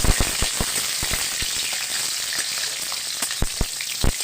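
Green and dried red chilies fry in hot oil, giving a steady close sizzle broken by sharp crackling pops throughout, with no talking.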